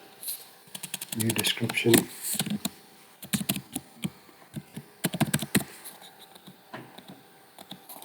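Fingers tap quick, irregular bursts of clicks on a computer keyboard while entering purchase order line items in office software. A person talks quietly over the keystrokes.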